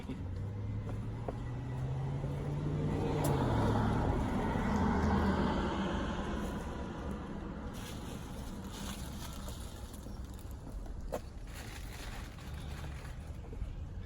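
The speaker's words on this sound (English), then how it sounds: "It is a little breezy here in New Jersey." Gusty outdoor wind in New Jersey, a broad steady roar that swells to a peak early on and then settles into constant rushing noise, with a low rumble and no talking.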